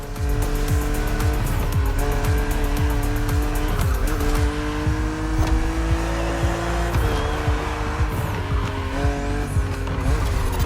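A BMW Z roadster races in The Crew Motorfest video game, its engine droning loud and steady while gear shifts change the pitch and tires squeal, with a rival car in the race and constant game sound under the whole run.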